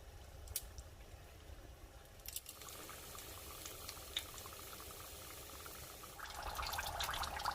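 Egg rolls dropped a few at a time into hot frying oil give a steady bubbling sizzle that swells louder near the end, with no talking.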